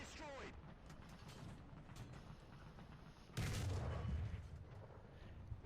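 A tank cannon shot in War Thunder from a Cromwell firing at a Panzer III, heard as one sudden loud boom with a rumbling tail partway through, over quieter engine noise and voice chatter.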